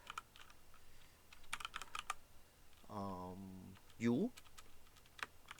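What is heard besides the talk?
computer keyboard key press and mouse click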